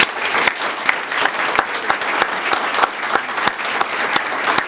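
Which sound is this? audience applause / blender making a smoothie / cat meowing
audience applause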